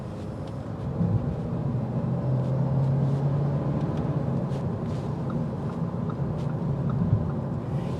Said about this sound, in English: It starts to get a little bit more noise through the wheel wells and on the side windows as well.